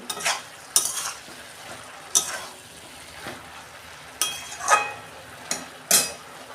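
Boiled cabbage being stirred in a pan, with a utensil scraping and clinking against the metal in several separate strokes over a soft, steady sizzle.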